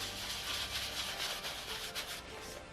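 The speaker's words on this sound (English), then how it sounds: "You just rub on a layer of the leather cream." Leather cream is rubbed onto a vintage real leather jacket by hand. A close, steady, dense rubbing and swishing fills the whole stretch, with no talking.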